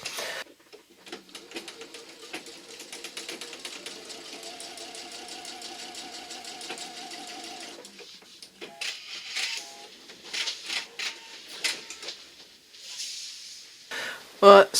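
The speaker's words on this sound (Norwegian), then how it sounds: "så kaster jeg over rundt hele yttersiden av belegget med en overlock" An overlock serger finishing the outer edge of a fabric facing hums and rattles steadily for about eight seconds, then stops; afterward come quieter handling noises, short bursts of sewing sound and a woman's speech.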